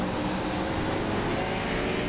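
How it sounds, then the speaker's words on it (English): A NASCAR race car engine in the iRacing video game at Martinsville drones loud and constant, a steady buzzing roar with no breaks across the short stretch. "is the engine sound too loud?"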